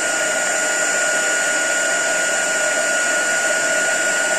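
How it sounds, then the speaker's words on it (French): A heat gun blows steadily while melting embossing powder on a craft project, giving a continuous loud, close whooshing hiss with a faint high whine and no pauses. "je vais chauffer au pistolet chauffant"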